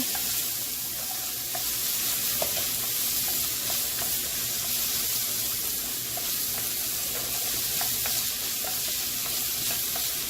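A chopped shallot and onion cook down in a hot pan with a continuous, even sizzle and light intermittent ticks of stirring.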